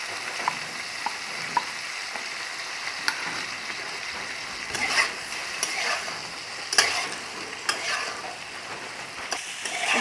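Raw mango chutney with salt, chili powder and turmeric is stirred in a sizzling pan, a steady frying hiss broken by spoon scrapes and light clicks against the pan, with louder stirring bursts and no talk.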